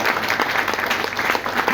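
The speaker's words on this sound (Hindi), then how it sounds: "ताली तो बजाइए।" An audience claps in steady, dense applause throughout, close and even, with no voices over it.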